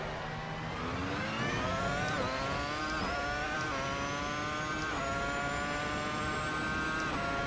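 A Formula One car, Williams FW26 or Ferrari SF71H, on an out lap at Monza in a racing video game, its engine holding a steady high whine that rises and drops with gear shifts, continuous and loud with no talk.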